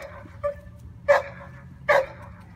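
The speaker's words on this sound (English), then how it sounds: "So he is a dominant dog." A dominant, good-natured dog barks three times, each short bark sharper and louder than the one before, with no talk over it.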